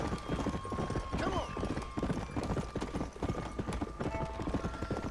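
Wild horses clip-clop across the ground in the open-world Western video game Red Dead Redemption, a steady rhythmic run of close hoofbeats with brief whinnies, under game music and someone talking.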